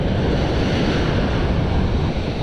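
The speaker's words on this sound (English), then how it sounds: "I guess the waves are still bigger than I thought." Ocean surf breaking on a beach, a steady loud roar of crashing waves with wind buffeting the microphone throughout.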